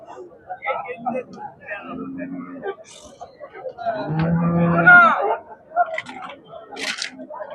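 At a busy cattle market in Tamil Nadu with Jersey and HF dairy cows, a loud nearby moo rises midway while people chatter throughout and other market noises come and go.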